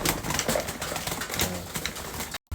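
Pet pigeons feeding, a dense close scrabble of pecking and shuffling with soft coos and a few wing flutters, continuous until a brief cut near the end.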